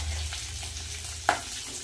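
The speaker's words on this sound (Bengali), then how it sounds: "এই তেলের মধ্যে দিয়ে দেবো গোটা জিরে আর তেজপাতা।" Whole cumin seeds and bay leaves hit hot oil left from frying crabs for a crab curry, bringing a close, steady sizzle with one sharp clink of a utensil partway through.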